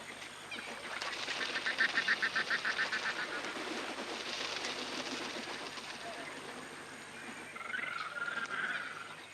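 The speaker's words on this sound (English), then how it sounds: "Thousands of water birds join in a frenzy of feeding and breeding" A large mass of water birds calls together at a remote Australian inland wetland, making a dense chorus of honking and squawking with steady chirping pulses. The calling continues throughout the clip at moderate distance without pause.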